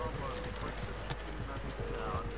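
Horse hooves clip-clop at a steady walking rhythm while riding alongside a wagon in the video game Red Dead Redemption 2, close and continuous under game ambience and possible voices.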